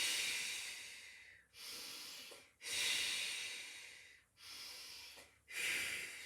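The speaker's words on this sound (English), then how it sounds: "So it's breathing in." Slow, steady breaths drawn in and let out during a Pilates session, close and quiet, forming five airy swells with brief pauses between them and no talking.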